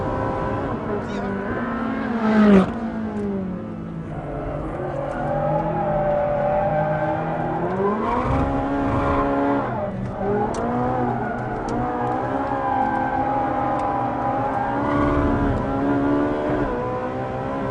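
A mid-engine Ferrari pulls away and accelerates hard, its engine note climbing through the gears with sweeping pitch rises, a shift or two, and a steady loud drone throughout; someone talks over parts of it.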